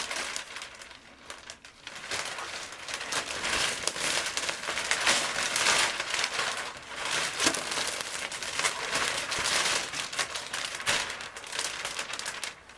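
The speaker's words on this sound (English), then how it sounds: "Now we are going to cut our cellophane." Cellophane for wrapping a hand-tied bouquet of roses crinkles steadily in close, crisp bursts as it is handled and cut, with no talking.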